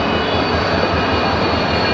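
A WDP4D diesel locomotive hauls the Madgaon Hapa Express on the Konkan Railway in rain, making a loud, steady, close roar with no breaks.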